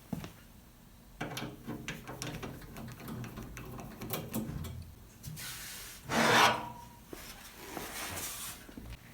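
Side panel being taken off a laser engraving machine, with Phillips screws backed out: scraping, rubbing and rasping handling noises with scattered clicks, and a louder scrape in the middle, close up and without talk.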